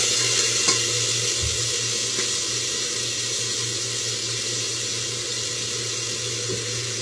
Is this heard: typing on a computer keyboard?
no